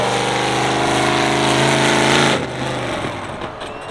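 A big truck at a speedway thrill show drives through a table, a loud steady engine drone with rhythmic pulsing that drops off sharply partway as it passes, no talking.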